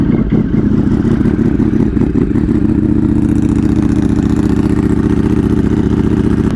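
A recently tuned motorcycle engine cranks and fires with a clattering start, then settles into a steady, loud, close idle with an even mechanical rumble and no talking.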